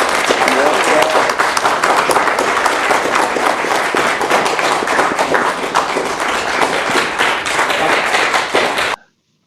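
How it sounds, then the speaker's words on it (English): A canned applause sound effect plays as a dense, loud burst of crowd clapping that holds steady for about nine seconds and then cuts off abruptly to silence. "Give them a big round of"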